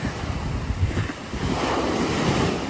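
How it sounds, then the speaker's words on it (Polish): Ocean waves break and wash along a Canary Islands shore, a steady loud surf roar with heavy wind buffeting the microphone and no voices. "O, jakie fale dzisiaj."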